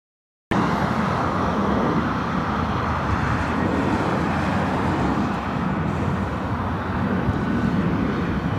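A Boeing 757-300 bound for Detroit takes off from LAX with a steady, loud, broadband jet roar that starts abruptly and holds without a break, mixed with distant road traffic.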